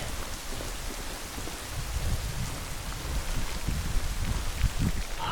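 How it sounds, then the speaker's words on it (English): Heavy rain pours while heard from a mountain tunnel, a loud, constant roar of drops with patters and thuds that grow stronger toward the end. "The rain's just getting heavier"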